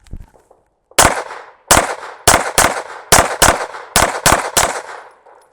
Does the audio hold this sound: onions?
no